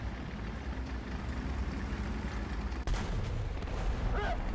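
Tank cannon fire in the War Thunder video game, a sudden loud blast cutting through steady engine rumble and battlefield noise.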